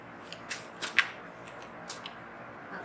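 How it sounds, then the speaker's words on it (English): Soft riffling and flicking of tarot cards being shuffled, a few quick bursts spread across a quiet room with faint background hiss. "Okay, I'll shuffle again."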